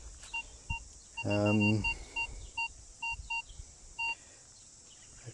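A Minelab Vanquish 540 metal detector on a target sounds a string of short, clipped electronic beeps, close and clear, broken by one longer, lower, richer tone near the start, with a brief spoken word barely present.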